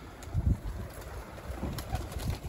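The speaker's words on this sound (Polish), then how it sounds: "Tutaj pierwsza zapełniona woliera gołębiami." Soft, low cooing from several pigeons in an aviary, faint and slightly distant, over a hum of background noise with no talking.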